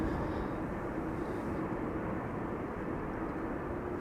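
An Embraer 195 E2 airliner arriving from Brussels at windy Amsterdam Schiphol gives a steady, broad engine roar at moderate distance, continuous and even throughout with no voices.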